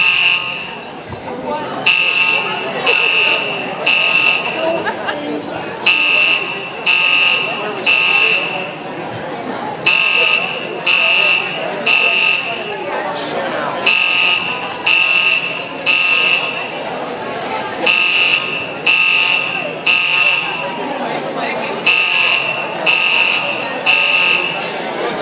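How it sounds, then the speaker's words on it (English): A building fire alarm blares at a live folk music awards show, a loud high buzzer pulsing in quick bursts with short gaps, repeating over a murmuring crowd that talks and chatters underneath. "you might have to listen to this annoying noise until the fire marshal turns off the alarm"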